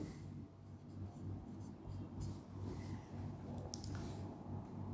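Chalk or marker writing on a classroom board, a soft continuous scratching and tapping over a steady low hum, with no one speaking.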